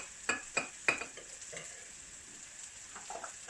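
A utensil stirs a pan for scrambled eggs made with a spoonful of cream, three sharp scraping clacks close together followed by softer scrapes over a faint, steady background hiss, with no talking.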